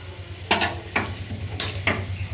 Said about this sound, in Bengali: ফোড়ন দিয়ে দেবো